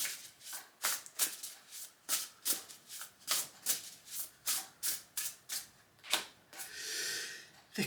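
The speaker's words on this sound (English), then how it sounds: "We're going to shuffle, get the deck going." Close-up shuffling of a tarot card deck by hand produces soft, rhythmic papery swishes and slaps at a steady pace, ending in a longer, smoother rustle as the cards settle.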